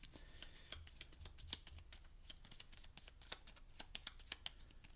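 Playing cards being shuffled, a quiet run of quick riffling flicks and soft snaps repeating steadily close by at low volume, with no voices.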